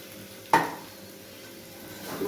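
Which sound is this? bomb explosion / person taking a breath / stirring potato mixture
stirring potato mixture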